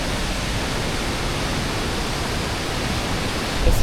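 A waterfall on a forest island in Japan roars in a steady, dense wash of falling water, loud and close, with no voices.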